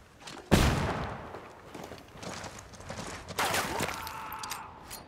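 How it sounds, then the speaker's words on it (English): A flashbang grenade going off in the shooter game Ghost Recon Wildlands, a sharp loud burst followed by a second blast with a lingering high ringing tone and scattered background noise. "Hey, throwing a flashbang."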